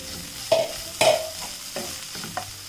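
Crushed meat being stirred and mixed in a frying pan for an iftar dish, with about four distinct scraping strokes over a soft, steady sizzle, close and clear with no talking.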